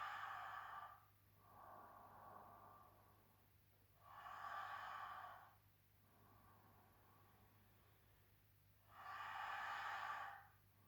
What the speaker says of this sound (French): 6 respirations lentes.